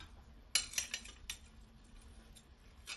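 A metal ladle sets pieces of fried pomfret into a pan of coconut fish curry, giving a few soft clinks and taps around the first second, then a last tap near the end, over a faint kitchen hum.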